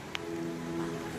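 Light drizzle falling on an outdoor public park in the late afternoon, a steady soft patter of drops with a faint hiss throughout, plus a distant low hum beneath and one brief sharp tick near the start.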